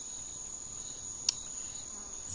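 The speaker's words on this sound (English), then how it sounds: "crickets in the background screaming like insanity" Crickets near the ocean in Costa Rica chirp in a steady, shrill, continuous drone, with one sharper burst of chirping in the middle and another at the end.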